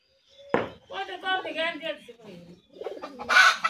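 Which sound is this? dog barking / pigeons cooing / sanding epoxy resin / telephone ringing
pigeons cooing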